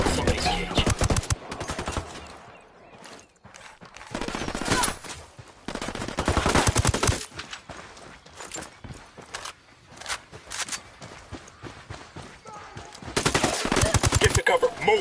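Rapid submachine gun fire in the tactical shooter Ghost Recon Wildlands, several loud, sharp bursts of automatic shots broken by short pauses and quieter gaps, with a long burst at the end.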